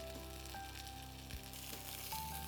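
Potatoes and spices fry in a pan for a Bengali mango curry, a quiet continuous sizzle with small crackles and a few soft stirring scrapes.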